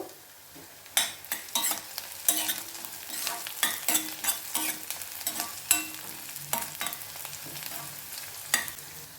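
Slit green chillies frying in oil in a pan for an egg curry, with soft sizzling broken by repeated sharp scraping stirs and clinks at an uneven rhythm, close and fairly quiet, no speech.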